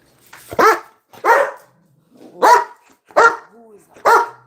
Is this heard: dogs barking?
yes